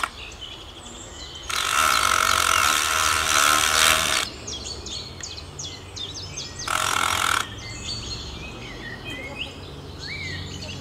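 A screw being driven in with a screwdriver: a loud whirring burst of about two and a half seconds, then a shorter one, with birds chirping throughout in the background.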